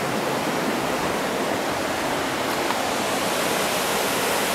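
River water rushes steadily through Laurel Fork Gorge on the Appalachian Trail in Tennessee, a loud, unbroken hiss of flowing water with no pauses and no voices.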